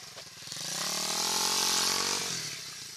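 A dirt bike engine revs up to a sustained high-pitched whine, holds for about a second and a half, then eases back down, loud and close, with no talk.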